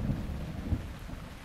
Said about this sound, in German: Okay, natürlich am Regnen. Oh, sogar Gewitter.